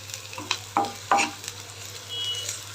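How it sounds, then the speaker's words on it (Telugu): Onions fry in oil in a pan with a faint continuous sizzle, broken by a few sharp scraping strokes of a spoon stirring them, close and quiet, with no talk. "ఆనియన్స్ వేస్తున్నా వీటిలో బాగా కలుపుతూ వేయించుకున్నా"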